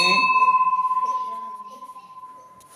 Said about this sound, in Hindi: इसी गुफा में घंटा लगा हुआ है। हम भी नियमानुसार घंटा बजा देते हैं।